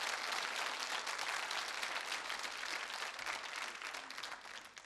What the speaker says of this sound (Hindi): बजाइए तालियां होली के शुभ अवसर पर आप अपने लिए